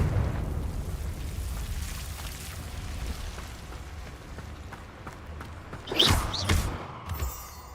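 A Confringo explosive spell blast in Hogwarts Legacy: a sudden bright burst near the end of a low rumbling backdrop, followed by a second crackling flare and fading debris.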